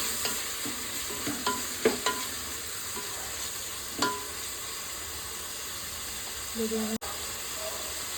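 Chopped tomatoes frying in a pan give a soft, steady sizzle and hiss, broken by several light scraping stirs and utensil taps, with a sharp clack near the end; fairly quiet and close.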